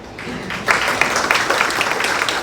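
A room full of people at a memorial celebration program bursts into steady, dense applause, clapping loudly and continuously for a couple of seconds.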